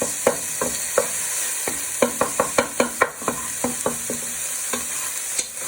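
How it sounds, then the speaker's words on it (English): Cottage pie filling frying in a pan, stirred and broken up with a wooden spoon: a steady run of close, sharp scraping clicks and knocks over a soft background sizzle, with no talking. "Just give it a little stir first, and then get any of the lumps out using your wooden spoon."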